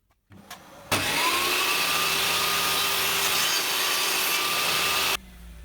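A saw blade cuts a length of wood for a wall cupboard in a Mercedes Sprinter campervan, one steady loud whine with a tonal ring that runs about four seconds after the motor spins up, then cuts off abruptly.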